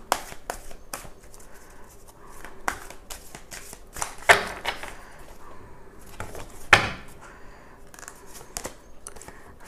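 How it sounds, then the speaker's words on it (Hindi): Tarot cards being shuffled by hand, soft riffling and tapping with sharper snaps now and then, close and quiet, heard alone without talk. "पहले अच्छे से शफल कर लेते हैं।"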